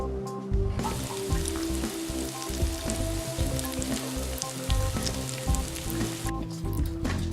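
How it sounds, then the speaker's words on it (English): Oil sizzles steadily in a pan while it heats before raw dough for roll kuchen goes in, a dense crackling hiss with small pops, close and continuous with no voices. "we're going to let the oil cook in the pan and then we're going to put the raw kuchen in it"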